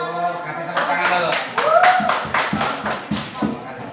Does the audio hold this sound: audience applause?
yes